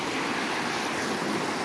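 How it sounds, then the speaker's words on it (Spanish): A swollen river flows with rushing water, a dense, steady roar heard up close with no pauses and no talking. "el río estaba bajando agua"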